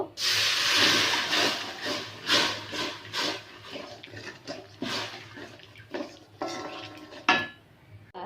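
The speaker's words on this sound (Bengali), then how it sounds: "আমি এই কড়াটা ধুয়ে এই জলটা আমি ফেলবো না" A metal kadai wok is washed with water, giving irregular scraping and clattering bursts with splashes, fairly close and moderately loud, with no voices.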